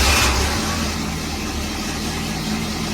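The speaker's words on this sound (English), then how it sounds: "let's start the engine back up" A 1968 Firebird's engine, freshly wired for a Vintage Air conditioning install, starts and settles into a steady, close idle, with a slightly louder burst at the very start and no talking.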